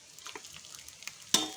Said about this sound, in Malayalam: ഒരു ചീനച്ചട്ടി കുറച്ച് എണ്ണ ചൂടാകാൻ വെച്ചിട്ട് അതിലേക്ക് കുറച്ച് തേങ്ങ കൊത്തി